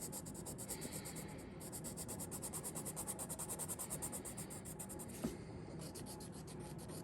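Black colored pencil drawn over marker on paper, close, quiet rhythmic scratchy strokes with a regular back-and-forth scribbling pattern and no talk.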